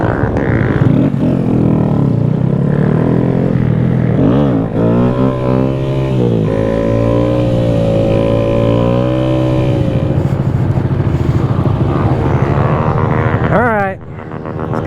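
A Honda Grom motorcycle engine runs loud and close, idling and revving with rising and falling pitch throughout, with a quick rev near the end and voices mixed under the engine.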